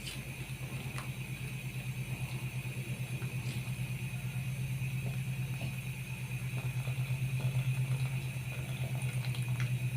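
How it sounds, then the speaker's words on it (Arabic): A low, steady rumbling bubble of water boiling in an electric kettle churns continuously, fairly quiet and close, with faint ticks and pops on top. "تغليها في الكاتل الكهرباء اللي عندك بالطريقه دي كده"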